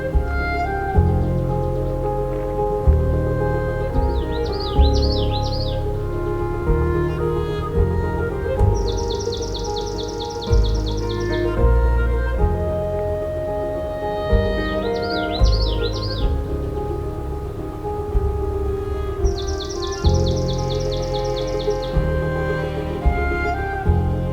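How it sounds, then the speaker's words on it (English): Swamp sparrows sing from a summer swamp in two singers' alternating bouts of harsh, rapid trills. The repeated buzzy rattles stand out clearly over a low, continuous background drone. "There's two swamp sparrows."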